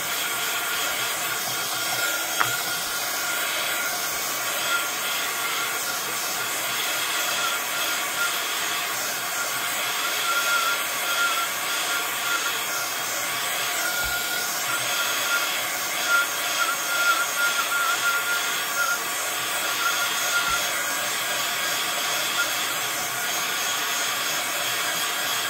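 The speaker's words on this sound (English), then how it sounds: "I'm just going to give this a blast with the heat gun to dry it, so forgive the noise" A heat gun blasts air to dry a mixed media card, a loud continuous roaring whoosh that holds steady with slight fluctuations throughout, with no talking.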